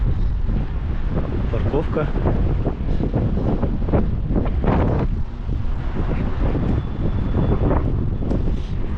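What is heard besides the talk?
strong wind blowing into the microphone outdoors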